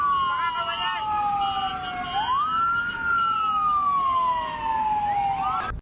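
A fire truck siren from the Clark Development Corporation fire crew responding to a gas pump fire wails loudly and close, sweeping up and down in pitch continuously.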